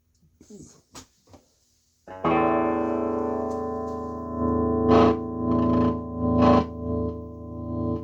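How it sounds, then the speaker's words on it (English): A small, loud Marshall guitar amp with crackling pots switches into distortion, and sustained overdriven chords ring out close and steady after a few sparse clicks and taps. "That's this distortion kicking in."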